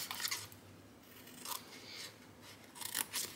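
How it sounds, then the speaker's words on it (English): Scissors snip a paper tab off a printed Oreo treat box, several quiet, close cuts in short bursts separated by brief pauses, with no talk. "cut that rectangle tab off the top"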